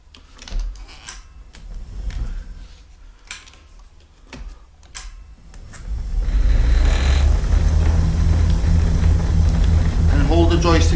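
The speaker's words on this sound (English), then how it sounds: "So now the wheels are spinning." Power wheelchair motors spinning the raised drive wheels at full speed, a steady loud motor whine that starts partway through and continues to the end, preceded by clicks and handling noises while someone talks.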